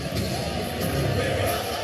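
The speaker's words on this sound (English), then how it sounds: "A lot of applause here for that call" A basketball arena crowd applauds and murmurs after a referee's offensive foul call, a dense, steady roar of clapping and voices, with a commentator talking over it.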